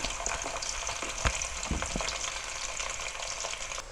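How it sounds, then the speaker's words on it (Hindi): Chopped onions tumble into a hot frying pan and crackle in oil with a steady, close sizzle, marked by a few thumps and scrapes early on; no speech. "कटे हुए प्याज मैंने डालूँगी।"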